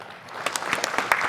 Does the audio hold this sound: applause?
yes